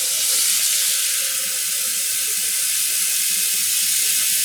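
Water runs steadily from a tap into a sink while tweed yarn soaks before dyeing, a loud, continuous rushing splash with no pauses or voices.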